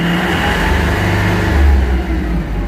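A Japanese ISEKI TA317 mini tractor with a cab and a 31 hp engine, revved on its hand throttle: a loud, close engine drone whose pitch rises and eases across the few seconds, with no talk.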